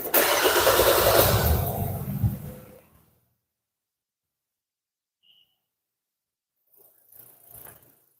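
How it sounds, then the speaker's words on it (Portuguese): A car engine cranks and catches with a loud, rough roar for about two seconds, then fades out into silence, followed later by faint scattered knocks and rustles. "Da partida no carro."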